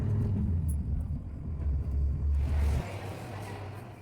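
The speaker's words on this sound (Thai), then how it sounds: "ดังนั้นรถเมย์จึงไม่สายแม้ในความเร็วสูงครับ" International bus travelling at speed on a road from Thakhek to Nakhon Phanom, a steady low engine rumble and road noise from inside that drops and eases slightly near the end.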